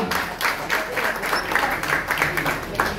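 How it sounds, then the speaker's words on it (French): Congregation applauding a pastor during a sermon on evangelism, an even wash of many hands clapping at moderate volume over a few seconds, with voices faintly underneath. "applaudissement pour Pasteur Alma"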